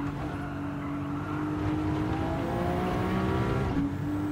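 A car engine in the Gran Turismo 7 racing game holds a steady, droning tone while the throttle is feathered through a turn, loud and continuous with a slight pitch drift.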